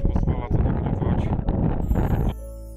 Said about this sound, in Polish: Nie wiem, na ile wiatr pozwala to nagrywać.